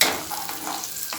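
Tempering spices crackle and sizzle in hot oil in a pan, a close, dense frying hiss for a brief moment.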